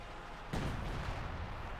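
In Company of Heroes 2, a single sharp artillery blast erupts partway through, then trails off into a rumbling decay over a low, noisy battlefield background.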